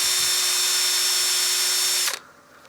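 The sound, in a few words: power sanding a wooden platter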